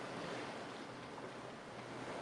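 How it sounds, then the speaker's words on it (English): Waves washing on open water at the Watts Bar dam, heard as a steady broadband wash with some wind rumble, fairly faint and continuous with no talking. "Look at them waves."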